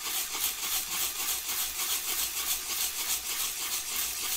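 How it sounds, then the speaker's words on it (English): A sandpaper pad scrubbing rust off a Nintendo Entertainment System circuit board, a continuous fast, hissing rub with a steady back-and-forth rhythm, close up and alone. "I'm gonna use my sandpaper pad to work this a little bit."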